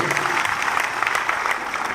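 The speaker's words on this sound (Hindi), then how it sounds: "एक जोरदार तालियां, दिल से एक जबरदस्त तालियां होनी चाहिए" Steady, dense applause from a crowd, loud and continuous throughout with no pauses.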